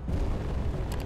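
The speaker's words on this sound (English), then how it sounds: "There's a lot of explosions going on over" Rumbling explosions from a space battle in the video game Space Engineers, a dense, continuous low booming with no clear gaps, moderately loud over a short burst.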